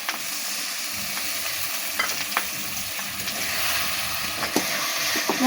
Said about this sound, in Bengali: আরও খানিকটা পানি দিয়ে মশলাটা আরও ভালো করে কষিয়ে নিতে হবে